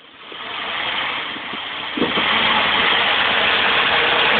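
Car engine running in first gear on a rough safari climbing track, giving a loud, steady, close rumble that swells slightly and then holds an even drone.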